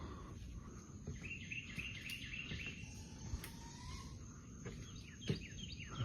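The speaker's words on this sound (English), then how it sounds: "little birds calling out to each other" Small wild birds in Florida call back and forth at sunrise, with faint, short chirps and a few thin whistled notes over a soft bed of insect and cricket hum in quiet outdoor ambience.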